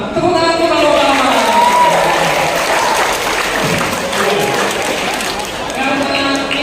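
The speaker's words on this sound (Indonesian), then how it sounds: "Tepuk tangan untuk romo papa." A church congregation in Surakarta breaks into loud, close applause for Romo Papa during a seminary vocation event, sustained and dense before easing slightly, with voices mixed into the clapping.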